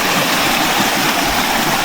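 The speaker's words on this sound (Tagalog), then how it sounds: "Sarap pakinggan ng ng ilog." A river flows steadily beside a campsite in the morning, a loud, continuous close rush of water with no voices over it.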